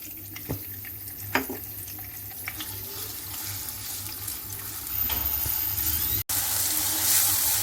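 Onions go into melted butter and oil in a pan for Afghani keema and sizzle as a steady, close frying hiss, punctuated by a few soft clinks and stirring scrapes.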